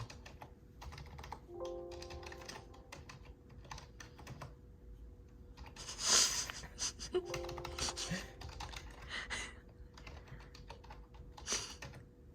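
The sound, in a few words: typing on a computer keyboard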